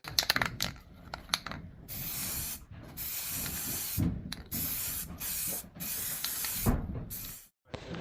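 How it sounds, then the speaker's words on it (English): Spray paint hissing from an aerosol can onto model railway gantries, in bursts of several seconds separated by short pauses and occasional rattling clicks. Close and moderately loud, no voices. "So that's all the gantries sprayed both sides."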